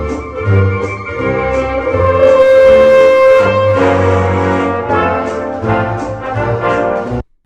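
A swing jazz tune is EQ-matched to sound like an old recording, with full band tones and a thin, boxy character before the music cuts off at the end.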